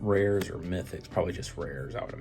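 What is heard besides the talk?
No distinct noise like a dog, phone or traffic.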